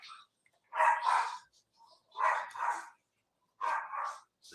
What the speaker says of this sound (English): This is what happens when you have 4 dogs.